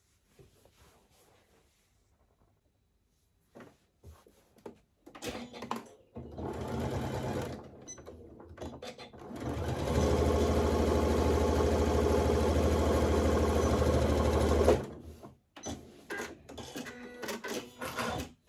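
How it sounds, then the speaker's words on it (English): A sewing machine starts in short bursts, then runs steadily for several seconds with a droning mechanical whir while sewing a makeup bag, before stopping, followed by light handling noises. "I'm going to just do it under the sewing machine"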